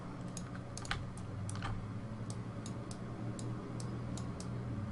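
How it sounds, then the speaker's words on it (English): Computer mouse clicks while 3D modelling a head, a series of crisp, sharp clicks in irregular clusters, close and clear over a low steady background hum. "Clicking all these lines."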